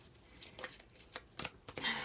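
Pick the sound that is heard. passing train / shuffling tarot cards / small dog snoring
shuffling tarot cards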